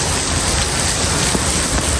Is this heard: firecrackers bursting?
no